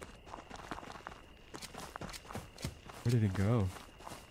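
Footsteps in a woods video game thud in an irregular series of soft impacts, with a person talking over them partway through.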